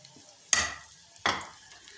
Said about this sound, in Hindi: प्याज को हमने लाइट ब्राउन करना है